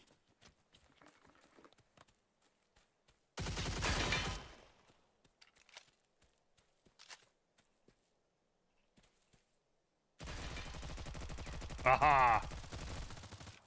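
Bursts of gunfire from computer-controlled characters in a multiplayer video game: one short loud volley, then quieter scattered shots, then a longer heavy stretch of firing near the end, with a brief exclaimed voice in between.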